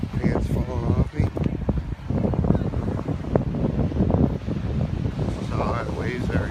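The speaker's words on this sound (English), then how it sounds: "We got some really high winds here today." Strong, gusty wind buffets the microphone on Bayshore Beach on a cold October day, a constant heavy roar with surf underneath and no let-up.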